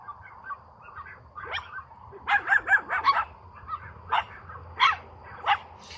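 Several dogs bark in short, sharp bursts at a house, fairly close, the barks clustering irregularly over a low background rumble with no talk.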